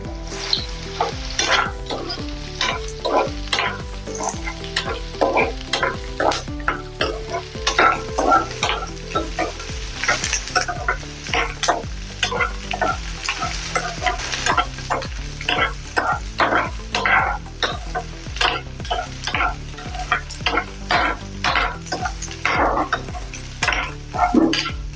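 Ginger and garlic cloves fry and get stirred in a hot pan for an aloo sabzi, a steady close sizzle broken by frequent scraping strokes of a spoon against the metal, with no talking.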